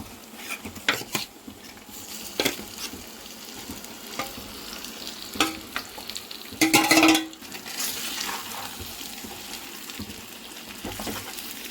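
Marinated chicken hits a pan of browned onions for green chilli chicken: a soft, steady sizzle broken by sharp clinks and scrapes of a utensil against the pan, with one louder burst of spattering midway, and no talking.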